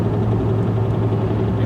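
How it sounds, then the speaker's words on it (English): Lexus LS400 with a shaking steering wheel and suspected alignment fault driving slowly, a steady low engine drone and droning rotational hum from the car's running gear, close and continuous. "it's making some kind of rotational noise."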